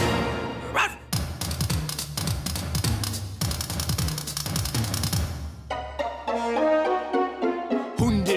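A mean dog in a children's TV show barks at kids, loud repeated barks with thumps over a busy musical backing, ending in a sustained tonal passage.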